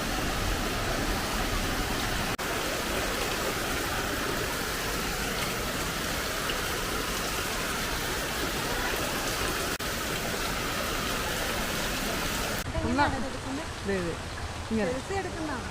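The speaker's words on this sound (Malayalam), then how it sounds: "നല്ല ശക്തമായിട്ടുള്ള മഴയാണ്." Heavy rain pours in a dense, steady hiss for most of the stretch, then eases abruptly to a softer patter as people begin talking nearby.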